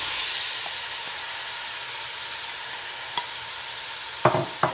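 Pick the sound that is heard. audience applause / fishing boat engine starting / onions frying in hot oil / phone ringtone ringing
onions frying in hot oil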